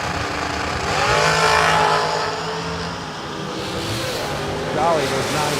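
Supercharged drag racing cars roar down the strip at a season kick-off event, engines loud and revving as they pass, with an announcer talking over the noise throughout.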